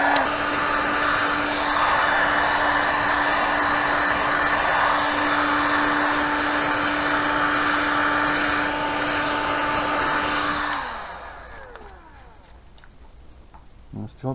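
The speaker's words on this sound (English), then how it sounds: "get the old cheap heat gun, plug that in" An old, cheap heat gun runs with a loud, steady whining blower roar for about ten seconds, then winds down as it is switched off, leaving faint clicks and handling noise.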